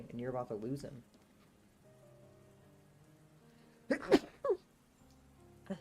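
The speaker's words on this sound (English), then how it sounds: "I was just trying so hard not to sneeze on the book." A single sharp sneeze bursts out during a live book reading, loud and sudden against a quiet room, with the reader's voice heard before and just after it.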